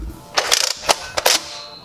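Nerf Rival Helios blaster mechanism being worked, a few close, loud mechanical clicks and ratcheting snaps as the return spring pulls the parts back.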